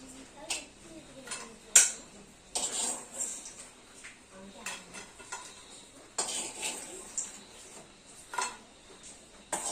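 Cooked food being scooped into a dish, with metal utensils clinking and scraping against pots and plates in short irregular bursts, close by and fairly quiet, with faint voices in the background.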